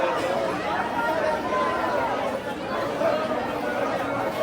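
Dense crowd chatter at a busy entrance, a steady hubbub of many overlapping voices close around, continuous with no pauses.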